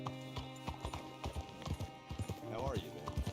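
Horse hooves clip-clopping in the open-world game Red Dead Redemption 2, a steady rhythmic trot close up, with a short neigh partway through and voices talking over it.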